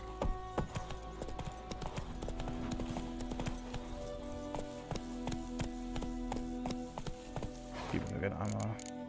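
Roach the horse's hooves clip-clop rapidly in The Witcher 3, a steady galloping rhythm of sharp hoof beats, with a voice talking over part of it.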